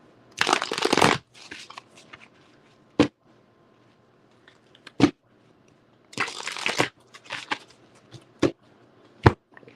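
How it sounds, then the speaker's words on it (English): Tarot cards being shuffled up close, with two long riffling bursts and several sharp single taps and snaps between them; no one speaks. "let me shuffle these up too"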